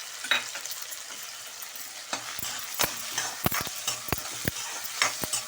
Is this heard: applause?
no